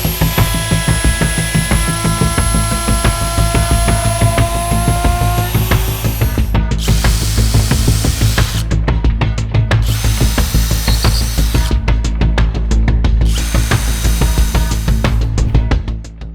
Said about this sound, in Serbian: Sada mogu tačno da kopiram oblik pomoću glodalice.